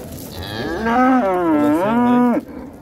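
A cow at a livestock market gives one long, loud, close moo that swells and wavers for about two seconds before cutting off, with faint crowd noise beneath.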